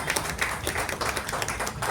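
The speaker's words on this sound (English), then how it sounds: "Please give a round of applause." Audience applause welcoming the chief guest at a graduation and annual day celebration: a dense, continuous patter of many hands clapping, fairly close and steady throughout, with no voices over it.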